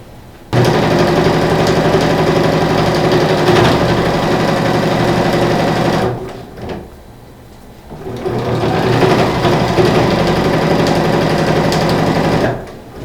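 A sewing machine runs in two long stitching bursts while fabric is sewn diagonally, steady and close, with a short pause between them as the piece is turned.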